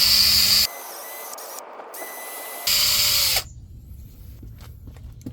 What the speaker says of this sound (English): let me clean the surface with the wire brush